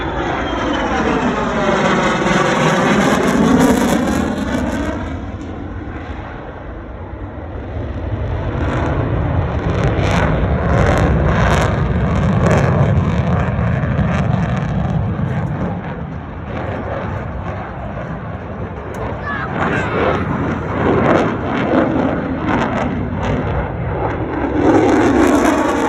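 An F-35 fighter jet roaring past at an air show, its loud engine rising and falling as it passes, with Doppler sweeps and sustained jet rumble at close-to-mid distance, no talk.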